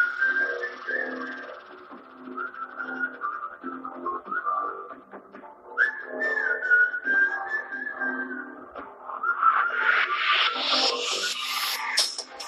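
A whistle theme from the Ajith Kumar film plays a loud, continuous melodic whistle over music, and bright, noisy layers swell toward the end.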